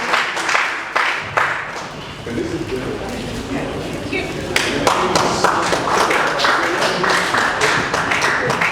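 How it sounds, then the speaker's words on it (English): An audience at a workshop panel discussion claps for the panelists, scattered close handclaps that build into steady applause, with some voices mixed in. "can you please clap for the panelists?"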